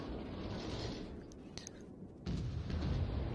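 Warship guns firing at a fort in World of Warships, deep rumbling booms under steady low game noise, with a louder burst near the end.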